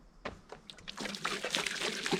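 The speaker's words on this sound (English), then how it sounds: "I wanted to water both the lip and the landing a ton" Water splashes onto the lip and landing of a dirt bike jump, starting with a few scattered splats and then turning into a louder, steady sloshing pour.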